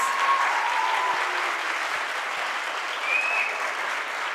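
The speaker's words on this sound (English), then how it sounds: "Can we have a big round of applause one more time, please?" An audience claps at the end of a school stage performance of 12 Angry Jurors, a sustained, uniform roar of applause filling the hall, with faint high tones drifting over it.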